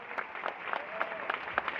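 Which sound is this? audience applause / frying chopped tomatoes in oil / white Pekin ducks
audience applause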